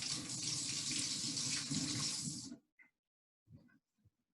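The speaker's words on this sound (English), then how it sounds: "I'm going to go wash my hands." A kitchen tap runs steadily and close for about two and a half seconds while hands are washed, then cuts off, leaving a few faint drips and small handling sounds in near silence.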